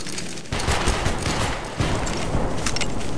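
Musket volley fired by line infantry in the video game Battlegrounds 3, a loud, dense crackle of many muskets going off together in ragged waves, with a fresh surge of shots partway through.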